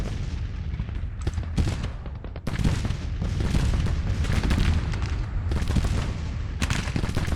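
Artillery fire exploding across a Civil War battlefield in Grand Tactician: The Civil War, a dense rolling barrage of booms and cracking shots that overlap continuously, loud and near, with brief lulls between volleys.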